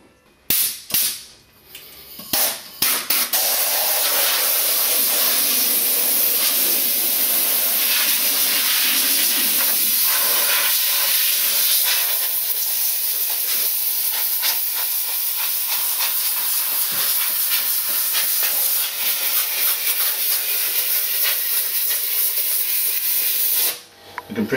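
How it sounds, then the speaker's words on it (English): Compressed air blasts dust out of a grand piano's mechanism and felts, a loud close hiss holding steady for about twenty seconds, preceded by a few short sputtering bursts and cutting off near the end. "The compressed air is really good at getting dust off the felt without disturbing it too much."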